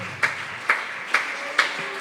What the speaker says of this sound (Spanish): Póngase de pie y aplauda al Señor.